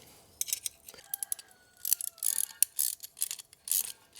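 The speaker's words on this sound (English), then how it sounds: "This is a 7/16 wrench." A 7/16 wrench works a bolt on a wheelbarrow under repair, giving rapid bursts of close metallic clicking and ratcheting in irregular clusters, with short pauses and faint squeaks between strokes.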